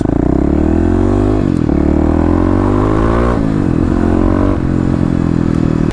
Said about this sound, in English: Ah yes, feels good to grab a fistful of throttle.